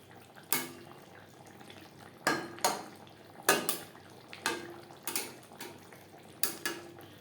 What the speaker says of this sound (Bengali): গরম মশলা পাউডার গ্রেভির সাথে বেশ ভালো করে মিক্সড করে দেব